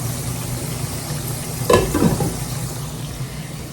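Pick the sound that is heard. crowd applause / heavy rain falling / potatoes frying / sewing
potatoes frying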